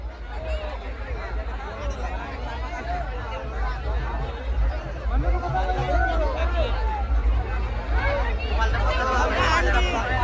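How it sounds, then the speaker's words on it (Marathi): A huge crowd chatters continuously at a Sati Mata yatra in Ramboris, a dense unbroken babble of many voices that swells slightly toward the end. "खूप प्रचंड गर्दी आज."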